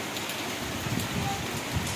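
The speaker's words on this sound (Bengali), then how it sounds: "দেখো কী পরিমাণে বৃষ্টি হচ্ছে" Heavy rain pours steadily onto a street and the surfaces around it, a dense, even hiss that fills the whole moment with no voices.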